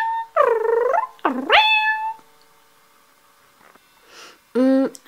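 A human voice imitates a mother cat calling for her kitten, giving a few long wavering meows with a quiet gap before a final rising call.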